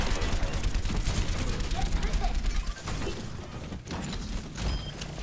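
Gunfire in the team shooter Overwatch, with a mech firing at opponents: a dense, rapid fusillade of shots and mechanical clatter. It runs steadily for several seconds with a few louder bursts and brief dips.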